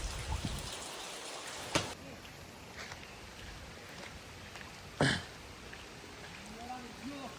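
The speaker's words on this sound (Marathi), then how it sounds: "पाऊस इलो आहे हो बघा" Soft, steady rain patters on farmland in the background, with faint voices and a couple of brief knocks.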